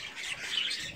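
Japanese society finches give soft, high chirping calls, brief and fairly faint at close range, with no talking.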